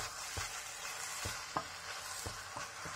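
Minced meat coated in flour is stirred in a frying pan, giving a steady soft sizzle broken by about six distinct scraping thuds of the spoon against the pan at irregular intervals, with no talking.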